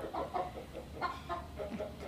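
Chickens on a family homestead clucking in short, repeated bursts, several birds fairly close and alone without talk.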